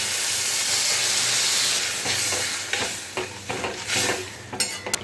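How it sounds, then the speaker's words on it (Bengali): Water poured into a pot of cooking chana and matar dal, a loud steady rushing splash and sizzle for the first two seconds, then settling into bubbling hiss with scattered stirring clatter, no talking. "এবার দিয়ে দিলাম জল"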